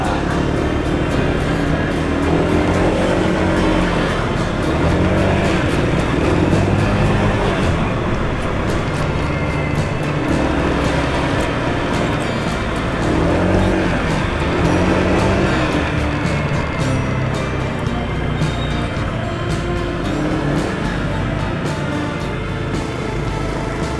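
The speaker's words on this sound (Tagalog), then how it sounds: "Ay, may tricycle na naman, maingay." A motorized tricycle passing along a night street, its loud, steady engine drone and road rumble filling the whole stretch close by, with no voices over it.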